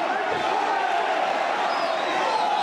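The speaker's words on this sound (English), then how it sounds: "the crowd is electric. They are going off." A dense, roaring crowd at a live combat-sports fight holds a constant, loud wash of cheering and shouting throughout, with no break and no sharp peaks.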